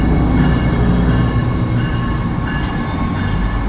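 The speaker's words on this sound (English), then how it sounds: "Another train coming in." A River Line light-rail train pulls into Trenton station, its loud, steady rumble close by, with rolling wheel noise and a faint squeal partway through.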